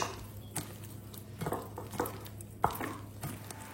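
Okra being mashed with mustard oil and lemon juice in a bowl makes soft irregular scraping and tapping strokes, with a sharper clink near the end, quiet and close.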